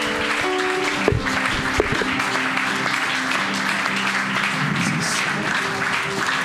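A church congregation at a Sunday service applauds loudly and steadily throughout, with brief sharper claps standing out from the dense clapping.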